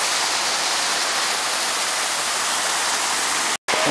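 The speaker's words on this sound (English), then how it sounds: "this is view number 3 from the same waterfall, right from the big beautiful cave" A waterfall heard from inside a big cave roars as a loud, continuous broadband rush, with one brief dropout near the end.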